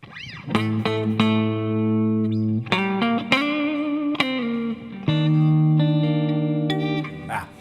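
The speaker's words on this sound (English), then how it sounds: "I really love the sound of this reverb." Electric guitar chords played on the neck pickup through a NUX MG-30 ring out with a lush reverb tail, several strummed chords sustaining and fading into one another.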